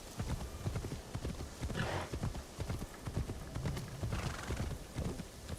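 Horse hooves clip-clop at a steady galloping rhythm in the video game Assassin's Creed Shadows, loud and close with continuous thudding strikes, a brief whinny-like bright burst, and faint background ambience.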